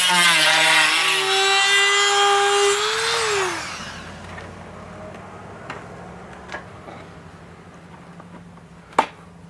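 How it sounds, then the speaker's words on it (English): A high-pitched Dremel rotary tool whines and grinds for a few seconds while cleaning crud off a scooter part, its pitch dipping as it winds down, followed by faint taps and a sharp click. "I'm just gonna clean it up here with a Dremel."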